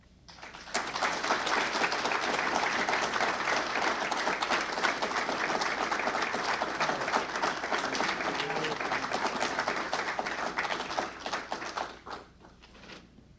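A full room of people applauds at a Fordham athletics meet-and-greet for new head football coach Joe Conlin, dense steady clapping holding for about eleven seconds, then fading away.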